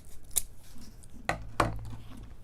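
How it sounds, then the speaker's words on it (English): Scissors snip through material for a winter snow owl wreath: three quick, sharp cuts spaced over a couple of seconds, close and crisp with no talk. "I'll grab my scissors real quick."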